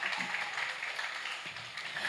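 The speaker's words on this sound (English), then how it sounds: "Let's give him a round of applause for that." Audience applause at a schools' debate competition, a steady, fairly faint patter of clapping sustained throughout with no talk over it.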